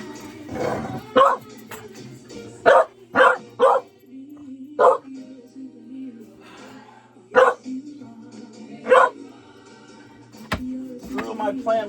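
A dog barks indoors in sharp, separate bursts, some in quick pairs and triples, close and fairly loud over a low steady room hum, with quieter whimpers or movement in between.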